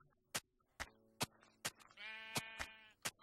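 Several short, sharp clicks or footsteps punctuate the clip while a Minecraft sheep bleats in a long, wavering call near the end, with a fainter bleat earlier.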